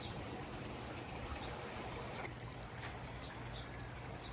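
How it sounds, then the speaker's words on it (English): A garden water fountain trickles and splashes gently and steadily outdoors, a soft continuous burble with no one speaking. "I've been asked why I have so many water fountains."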